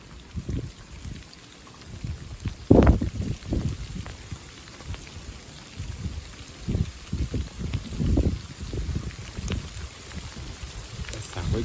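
Hail and rain pelt down during a sudden February storm with strong gusting wind, a dense steady clatter with louder bursts and gusts throughout, no voices.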